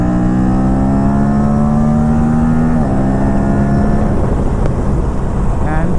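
An Aprilia RS 457 motorcycle engine runs steadily at close range with a strong droning tone that rises slightly, dips near the three-second mark, then continues at a constant loud level with wind noise.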